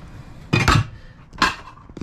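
Pots, pans and lids clink and clatter under the sink drawers of an Airstream trailer in two sharp bursts of metallic rattling, close and fairly loud.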